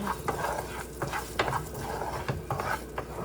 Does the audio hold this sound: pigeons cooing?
no